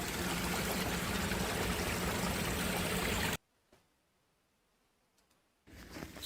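A stream flowing through a mountain valley gives a loud, steady rushing wash that cuts off abruptly partway through, leaving near silence before the flowing water returns at the end.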